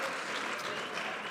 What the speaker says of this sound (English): Let's give him one more round of applause as he walks down.